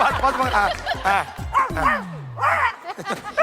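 A man imitates a dog with his voice, producing a run of yipping, barking and whimpering sounds in quick succession, close and fairly loud, with a long sliding whine in the middle, during a Tamil reality game show.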